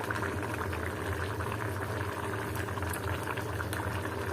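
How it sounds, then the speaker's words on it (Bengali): A pot of coral fish curry at a rolling boil, with continuous close bubbling and soft popping at an even level throughout and no voices. "মাছটার মধ্যে ভালোই বলক চলে আসছে আমার"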